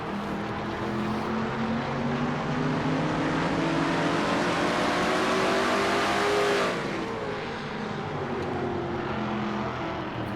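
A stock race car engine in a racing video game at Martinsville, run in an online NNSCRA Castrol GTX Cup series race. The loud, continuous engine drone swells and fades as the car laps the short oval, with no voices.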